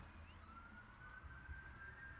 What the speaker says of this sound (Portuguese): hoje tá tendo uma manifestação ali, ambulância, mas eu vou tirar um pouco esse ruído aí, esse barulho externo